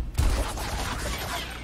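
Gunfire in the tactical video game Gears Tactics: a short fusillade of close, punchy shots packed into about a second, dense and loud, with no talk over it.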